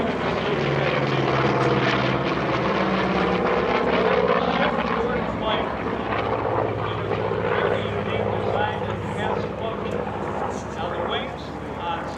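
A Corsair fighter plane, built from 1940 into 1952-53, flies at the EAA AirVenture airshow with a loud, steady propeller and engine roar throughout, and a voice talks over it.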